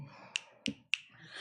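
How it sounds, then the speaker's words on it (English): Audience members at a book launch reading snap their fingers in place of applause, three crisp separate snaps, close and fairly quiet, over a faint room background. "Applause is appreciated, but I guess snaps are cool too"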